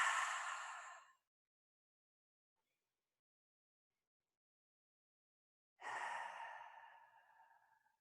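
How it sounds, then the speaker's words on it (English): Two long, deep breaths, close and breathy, each a steady rushing exhale tapering off, separated by several seconds of silence. "Take 3 deep breaths in through the nose"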